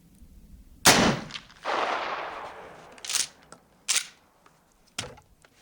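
A Mossberg 535 shotgun fires a slug outdoors: a loud single blast with a long rolling echo, followed by several sharper, shorter bangs spaced a second or so apart.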